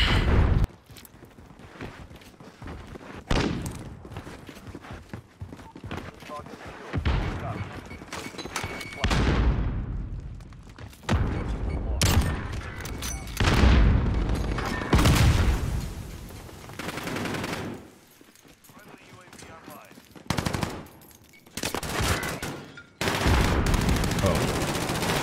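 Loud bursts of video game gunfire, sniper shots and rapid automatic fire, crack and boom repeatedly and irregularly, with brief quieter gaps between volleys.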